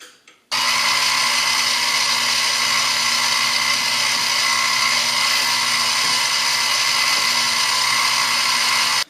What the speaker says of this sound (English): I'm finally able to drill a straight hole